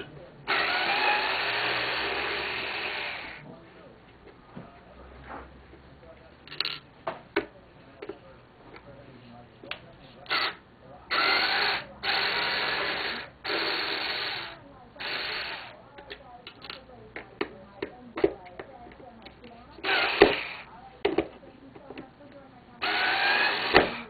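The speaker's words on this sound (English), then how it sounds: "Take off the 4 screws." Four screws come out of a player piano vacuum pump check valve, heard as repeated short bursts of a whirring screwdriver with quiet clicks and handling noises in the gaps.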